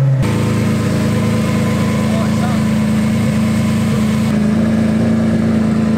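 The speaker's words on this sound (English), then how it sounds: "we gave the Yaris a bit of a rev" A Toyota Yaris engine, its battery a little low on charge, idles steadily and is given a rev partway through, the pitch stepping up and holding; the steady engine drone stays close and loud throughout.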